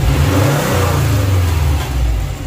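A Subaru WRX engine revving up to about 4000 RPM and easing off, a loud, close, steady mid-pitched engine roar that dips briefly near the end.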